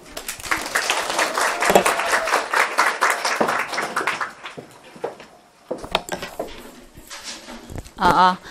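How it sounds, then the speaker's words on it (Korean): An audience at an English-teaching exam information session claps to welcome a lecturer: dense, fairly loud applause for about four seconds, then fading into someone speaking with scattered knocks. "자, 박수!"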